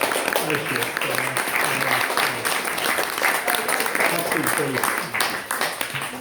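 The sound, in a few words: audience applause at book launch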